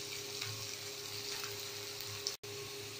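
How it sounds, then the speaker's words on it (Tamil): Chopped onions sizzle in hot oil in a pan for a chicken dish, a steady close frying hiss broken by a brief gap near the end. "ஆனியன் வந்து நல்லா ப்ரௌன் கலர் வர வரைக்கும் நல்லா ஃப்ரை பண்ணிக்கலாம்"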